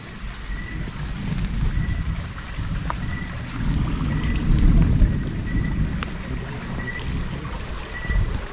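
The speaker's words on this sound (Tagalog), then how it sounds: "Oh, dulugdog yung kulog, dulugdog." Thunder rolls in a deep, continuous low rumble that swells and fades over several seconds, heard outdoors against a steady background hiss.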